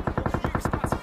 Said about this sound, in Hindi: लेकिन बहुत देर बाद यहाँ पर गोली चलने की आवाज आती है।